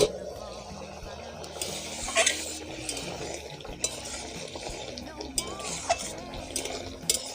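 Spoon stirring chicken filling for singara in a pan, repeated scraping and clinking strokes with a soft sizzle underneath, close and moderately loud.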